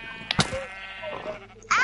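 Sheep bleating in a PS4 video game: one short bleat early on, then a louder, wavering bleat at the end, with quiet game sounds between.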